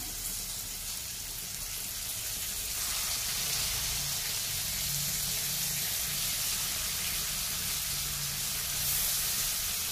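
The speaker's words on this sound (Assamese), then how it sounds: "এতিয়া ইয়াত এই মাছকেইটা ভাজি লওঁ।" Small fish dusted with turmeric frying in hot oil, a steady bright sizzle and hiss that grows a little louder after the first few seconds and holds with no talk.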